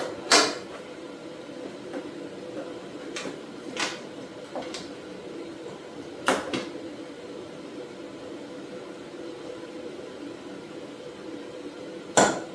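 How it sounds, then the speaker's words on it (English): An aluminum sheet is clamped to itself, giving sharp metallic clanks and taps, a handful of distinct knocks spread out over quiet background noise, some near and loud. "I might be able to use this clamp and clamp the material to itself"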